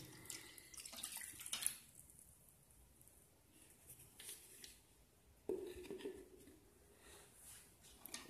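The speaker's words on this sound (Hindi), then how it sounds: "हम लोग पानी लेंगे" Water being poured into a container to start making gel-type liquid handwash at home, a faint trickling and splashing with a brief louder pour partway through, in a quiet room.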